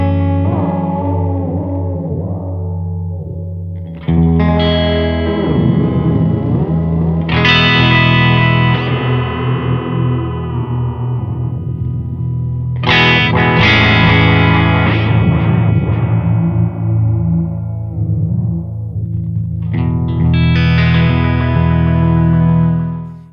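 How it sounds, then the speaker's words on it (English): A guitar runs through a Rainger FX Echo X digital delay pedal whose echo rate is swept by an Igor controller, loud sustained chords with distorted, pitch-warping repeats that bend and smear as each phrase rings out, with no talk. "the first thing we're gonna start on is where the Igor controls the rate of the echo"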